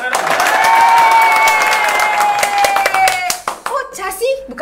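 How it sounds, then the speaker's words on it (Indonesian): A group of people clapping hands loudly and steadily at close range, with voices talking and exclaiming over the applause before it fades out. "Tepuk tangan dong."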